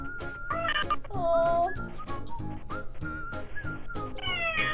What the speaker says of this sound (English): This cat is desperately trying to alert the owner to open the door.